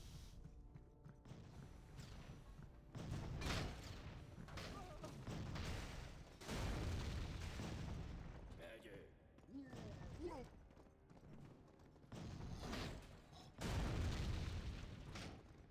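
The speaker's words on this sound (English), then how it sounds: "A lot of TNT explosions on the side" Repeated TNT blasts in the online game Panzar, a series of heavy booming explosions at intervals over rumbling battle noise and background commentary.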